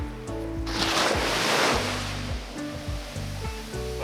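Ocean surf washing onto a beach at Whangarei, New Zealand, a steady broad rush of breaking waves swelling and easing, heard alone without voices, with faint tonal background sounds layered beneath.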